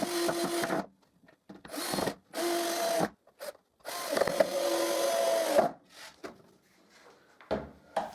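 A new wooden base is screwed onto a homemade drill-powered disc sander, with close, repeated bursts of ratcheting, grinding screw-driving separated by short quiet gaps.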